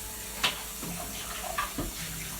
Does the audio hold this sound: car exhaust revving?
no